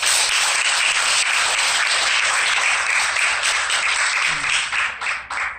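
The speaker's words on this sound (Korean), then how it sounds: "박수 쳐주고 싶어" Applause from the audience at a summer community spiritual training lecture: steady, dense clapping sustained throughout at a fairly loud level, tapering slightly near the end, with no speech over it.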